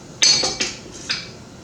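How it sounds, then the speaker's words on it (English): A metal dough hook is fitted onto a stand mixer, giving three or four sharp metallic clinks and taps, close and clear, in a quiet kitchen while making fry bread. "I'm going to put the dough hook on"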